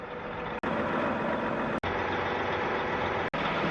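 A work truck's diesel engine rumbles steadily and loudly up close, a dense continuous drone broken only by a few abrupt cuts, with no distinct reversing beeps standing out.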